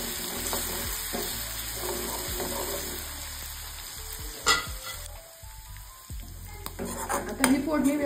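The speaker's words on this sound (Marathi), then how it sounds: "आता यामध्ये लगेचच आपण जे हिरवी मिरचीचं वाटण घेतलं होतं ते वाटण आहे ते घालून घ्यायचं आणि व्यवस्थित परतून घ्यायचं।" Fenugreek seeds and green chili paste sizzle in hot oil in a pan for kadhi, with loud frying, a spoon scraping and stirring, and metal clinks from the pan.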